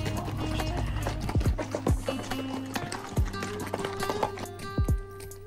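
Horse hooves clip-clopping on an Alpine mountain trail during a steep climb, an uneven run of close hoof strikes with occasional heavier thuds, over a steady low background hum.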